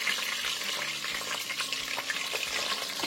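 Fish frying in hot oil in a saucepan as the last piece turns golden, giving a continuous dense crackling sizzle that stays steady throughout, close but soft with no talking.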